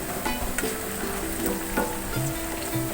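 Malabar spinach (pui shak) pakoras frying in hot oil over low heat, a steady close sizzle with occasional small pops and clinks, continuous throughout with no talking.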